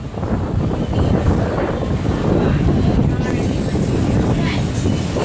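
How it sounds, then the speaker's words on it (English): Strong wind buffets the microphone at a beach by the water at sunset, a steady loud low roar filling the whole stretch with no break. "Wind's blowing pretty good."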